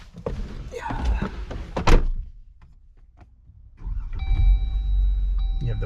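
2021 Jeep Wrangler Unlimited Sport S door slams shut with a solid thunk amid shuffling and movement, then quiet before the engine idles low with steady chime tones.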